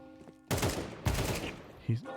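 Gunfire in Counter-Strike 2 aim training: two or three sharp, loud shot bursts ring out close up, spaced about half a second apart, with a faint voice under them.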